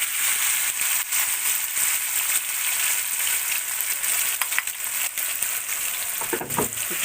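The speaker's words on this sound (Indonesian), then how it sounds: "selanjutnya kita akan tumis dulu bumbu yang tadi kita udah blender." Blended spice paste sizzles and fries steadily in a hot pan for asam padeh beef, a continuous loud crackling hiss with a few brief utensil scrapes near the end.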